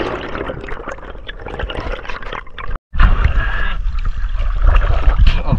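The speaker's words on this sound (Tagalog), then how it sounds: "narinig ko na ang tunog ng bangka na papalapit" Boat engine approaching across open water off Linapacan during a spearfishing trip, a low rumble growing louder amid sloshing water, with a brief dropout midway.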